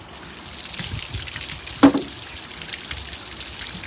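Water from a hose runs steadily into flush muffs on a Mercury 25XD two-stroke outboard motor sitting on a stand in a shop, a close, even trickling hiss with one brief splashy burst midway.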